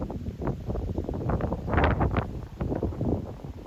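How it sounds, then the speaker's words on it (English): Gusting wind buffets the microphone at a hiking lookout along the Appalachian Trail, a steady broadband roar that swells and ebbs in uneven surges, loudest near the middle, with no talking. "You can probably hear the wind."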